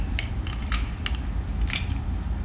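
Metal cooking spoons being polished, giving light scraping and clinking strokes that repeat at an uneven pace over a steady low rumble, with no voices.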